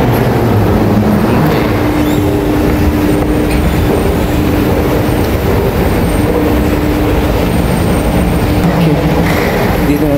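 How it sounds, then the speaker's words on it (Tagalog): Sydney commuter train running, a loud continuous rumble of wheels on rails with steady rolling noise and faint squeals throughout, people talking softly underneath. "Welcome to Sydney train."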